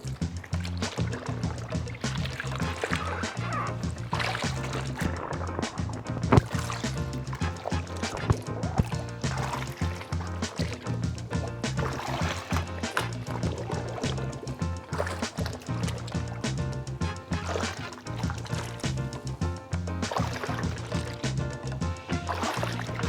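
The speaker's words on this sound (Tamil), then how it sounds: "we are going to rinse it in plain water" Washed jeans are rinsed by hand in a bucket of plain water, with continuous close sloshing, splashing and swishing of fabric in water throughout.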